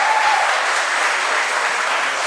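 Steady, dense applause fills a council chamber during a public session. It holds evenly loud throughout with no pauses.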